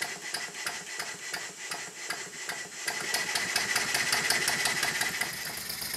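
A Stuart No. 9 model steam engine runs with its longer, unshortened valve, giving a steady, rapid mechanical knocking beat close by that grows slightly louder partway through, with no voices.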